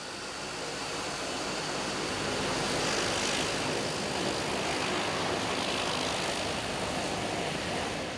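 Propeller airplane engine droning loudly and steadily from inside the cabin on a flight in the Solomon Islands, a constant broad roar with no speech.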